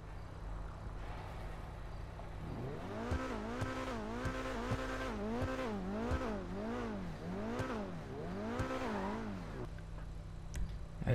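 An Inverto Conquest D10 sports car, a C8 Corvette lookalike in GTA, drives along with its engine rising and falling through repeated gear shifts and revs, steady and fairly quiet, with no talking.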